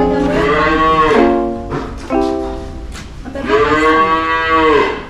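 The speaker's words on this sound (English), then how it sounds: "you can see this is some dairy cows" Dairy cows on a smart farm in Murang'a, Kenya, give several loud, drawn-out moos in close succession, near and clear, with no talk over them.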